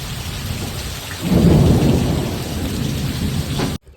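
Steady heavy rain pours down, then a deep rolling rumble of thunder builds and carries on under the downpour until it cuts off abruptly.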